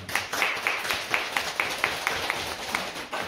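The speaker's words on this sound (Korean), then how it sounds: "우리 한번 박수 한번 해주십시오." A church congregation claps in unison during a Sunday service, a steady rhythmic run of sharp claps about four per second, moderately loud and fairly close, with no talking over it.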